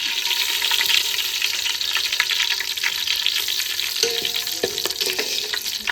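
Bay leaves, dried red chillies, cumin and whole garam masala spit and crackle loudly in hot oil for chicken biryani, a dense, continuous sizzle with stirring scrapes and a metallic clink near the end.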